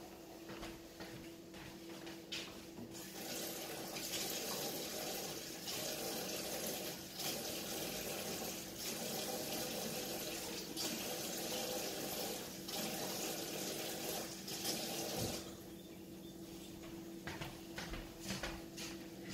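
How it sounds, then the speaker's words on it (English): Hot water runs steadily from a sink tap into a container being rinsed out, a continuous close splashing rush lasting many seconds with slight shifts as the vessel moves under the stream. "I'm going to go run really hot water to clean this out."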